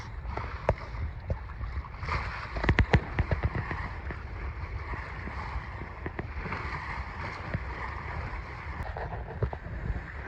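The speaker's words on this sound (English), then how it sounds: "We're in a reef 1 and a partial jib, and we're still doing 6 knots." Sailboat running under a single reef and partial jib in gusty wind at about six knots, with steady broadband wind and water rush throughout and a few sharp knocks or slaps near the start.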